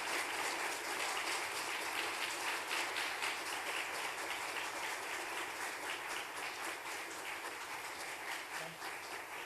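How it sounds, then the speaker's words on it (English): A university audience gives a sustained round of applause, dense even clapping holding steady throughout at moderate distance, with no talk over it. "Give me a round of applause."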